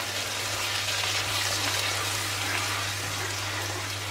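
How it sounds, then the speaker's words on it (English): Steady running water poured into a pot of vegetable curry, a continuous soft gushing stream over a low hum for several seconds, no talk. "I'll distribute some water through it too to make it a bit more runny"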